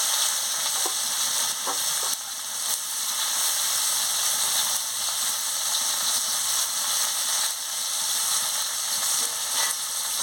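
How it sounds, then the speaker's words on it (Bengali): Chopped onion frying in hot oil while a Bengali katla fish curry is being cooked. A steady, bright sizzle fills the whole stretch, with occasional small stirring clicks and no talking. "তেল গরম হয়ে গেছে, আমি পেঁয়াজ কুচিটা দিয়ে দিচ্ছি"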